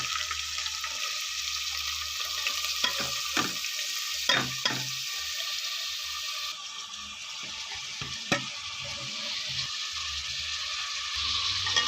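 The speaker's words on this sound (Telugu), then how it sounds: "ఇలా కొద్దిగా ఫ్రై అయిన తర్వాత మనం కట్ చేసి పెట్టుకున్న ఆనియన్స్ని కూడా అందులో యాడ్ చేసేయండి" Chopped onions added to hot oil for a potato curry fry and get stirred in a pan, giving a steady close sizzle with scraping stir strokes and clinks throughout.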